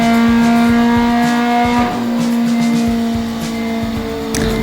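A Mazda2 1.3 engine with a stage 4 remap revs hard on a dyno in fourth gear, a loud, steady, high-pitched drone with a slight dip in tone partway through.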